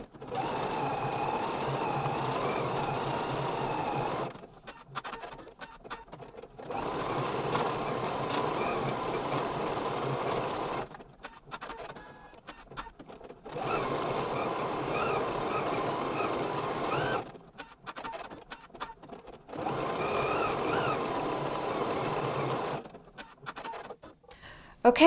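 An embroidery machine runs tack-down stitches in several long steady bursts with short quiet pauses between them, a fairly soft mechanical whirring and patter throughout.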